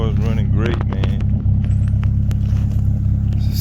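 An F23A-swapped Honda CB7 sits idling with a steady, close, low engine rumble, while someone talks over it at the start.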